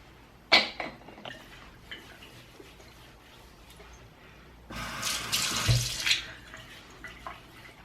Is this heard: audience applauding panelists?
no